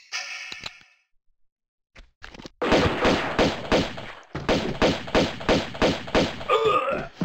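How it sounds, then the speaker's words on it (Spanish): Rapid gunfire in the Tomb Raider video game, a quick series of sharp, loud repeated shots in bursts, following a brief quieter lead-in of game sounds. "Ese disparo te lo comes"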